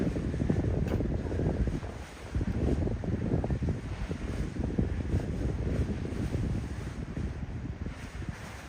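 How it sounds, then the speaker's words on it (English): River water at the Lisbon riverside in Parque das Nações, a continuous choppy wash and lapping against the bank mixed with heavy wind rumble on the microphone, near and steady with no talking. "love the river sounds"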